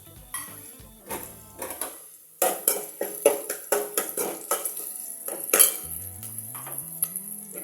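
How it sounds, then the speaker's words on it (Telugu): A lump of asafoetida (hing) is pounded in a home kitchen while cooking, giving a quick run of sharp, close, metallic knocks in a steady rhythm, with quieter clinks before and after. "ఇది దంచేసి వేసుకోవాలన్నమాట ఇంగువ"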